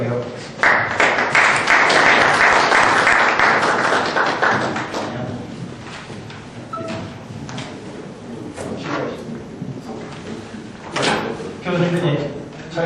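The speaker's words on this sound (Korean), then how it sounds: "한 분 한 분 나오실 때마다 힘찬 박수를 부탁드리도록 하겠습니다." Audience applause at a labor union representatives' council forum in Seongnam as panelists walk forward, a dense clapping burst swelling then thinning into scattered claps, with knocks and thumps of people moving nearby.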